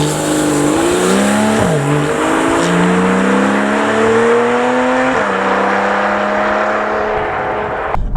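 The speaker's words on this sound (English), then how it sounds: "let's take a look at what the 991 sounds like" Porsche 991 911 with sports exhaust revving: a loud, close engine note climbing steadily through the revs, dipping briefly at shifts, then rising again, running continuously before cutting off at the end.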